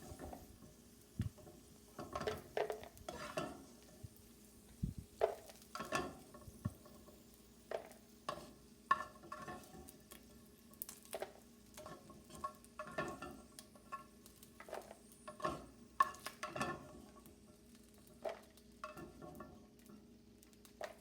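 Cashew nuts frying in hot oil, an irregular series of faint crackles and pops with occasional scraping stirs, fairly quiet and spread across the whole stretch without any talk.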